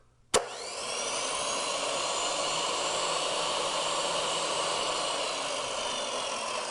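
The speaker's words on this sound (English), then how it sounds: "The one thing about having a chop saw in your house" A chop saw in a home workshop switches on with a click and runs at a loud, steady high-pitched whine, close by, with no one talking.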